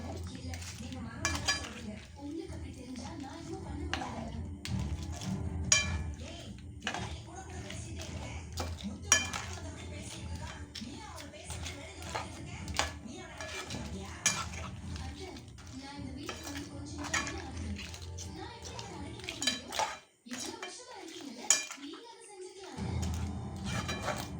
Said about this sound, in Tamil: இதில் அப்படியே பெரட்டிக்கலாங்க இது நல்லா ரோஸ்ட் ஆகி வரணும்